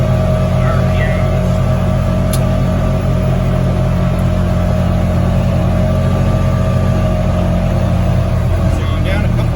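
A car fitted with an MSC Stage 1 clutch kit pulls from a 30 mph rolling start, a steady close engine drone holding a low hum with no voices over it.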